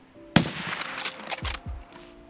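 Gunfire in the shooter game Escape from Tarkov: a sharp, loud shot cracks out, then a rattling run of further rounds with rumbling echoes, fading out after about a second and a half.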